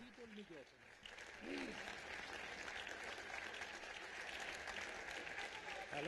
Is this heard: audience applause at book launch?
yes